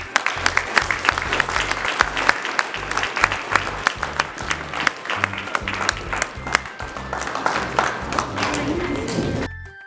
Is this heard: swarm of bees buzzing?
no